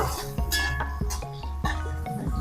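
Green chilli, a quarter spoon of asafoetida and steamed chickpeas sautéed in a pan for gram-leaf bhaji, with repeated clinks of a spoon against the pan over a steady low sizzle.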